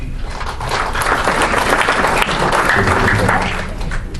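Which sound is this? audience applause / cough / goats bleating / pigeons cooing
audience applause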